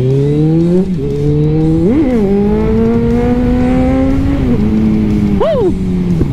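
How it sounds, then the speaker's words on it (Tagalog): A motorcycle engine drones close and loud on a ride from Vigan to Bangued, its pitch holding steady, then rising and falling in quick revs as the rider shifts, with wind noise throughout. "Parang bagong-bago na naman yung motor natin ngayon."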